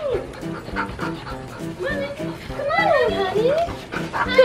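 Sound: Labrador and golden retriever puppy whimpering

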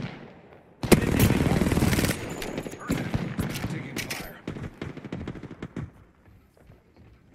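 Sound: gunfire from a video game (Champions)

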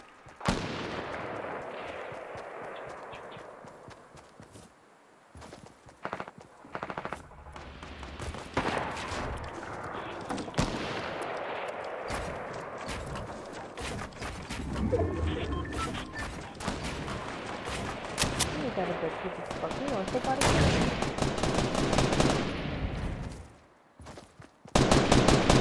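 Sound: gunfire in a video game

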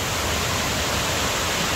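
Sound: Kuang Si waterfall, Laos

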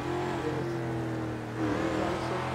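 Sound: loud car engine revving, video game roleplay

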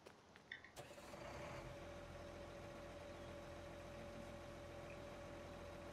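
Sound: combine harvester engine running in Farming Simulator video game

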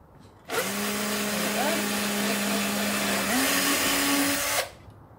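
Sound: power drill driving a screw

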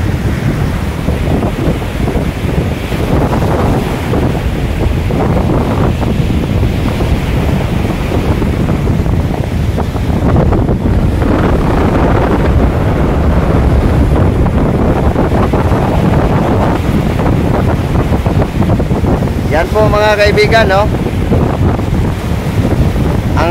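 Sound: strong wind and waves crashing on a beach

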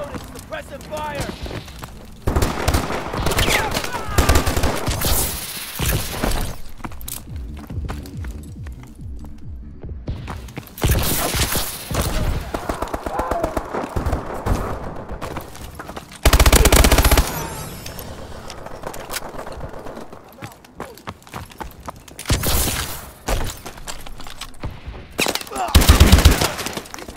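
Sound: suppressive gunfire in Call of Duty Advanced Warfare video game

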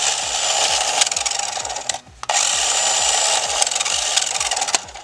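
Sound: NKOK Tails RC vehicle wheels spinning while held, weird noise

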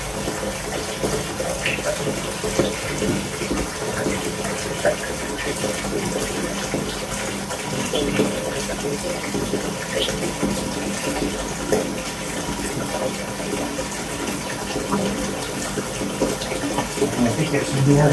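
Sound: bathwater running from tap

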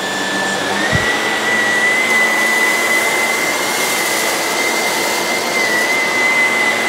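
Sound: Shark Navigator vacuum cleaner running on carpet

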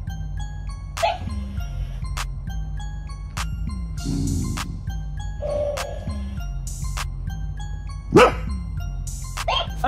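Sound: angry dog barking at a toy

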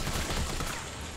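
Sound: gunfire in a video game

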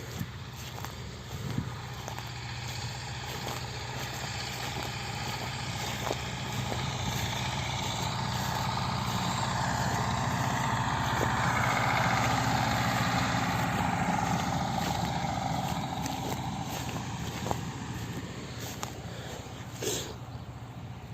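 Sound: Ursus C360 tractor mowing rye with 165 cm rotary mower

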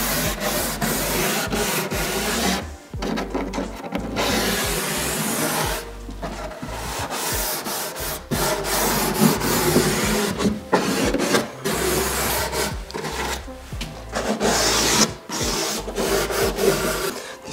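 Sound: hand sanding wooden door with sandpaper

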